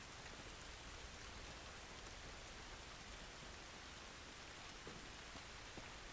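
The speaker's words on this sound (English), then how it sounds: "This rain ain't gonna do us any good." Steady rain pours outdoors in the video game The Last of Us, a dense, even hiss of drops striking surfaces that holds constant at moderate loudness throughout, with no voices.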